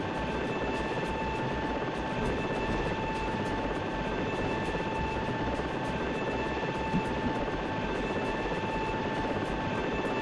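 A steady video game helicopter rotor drone with a constant whine hums evenly throughout, unchanging and fairly loud, with no voices.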